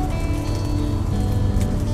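Steady rain pours down in a dense, continuous hiss and patter on surfaces nearby, loud and unbroken throughout, with no voices.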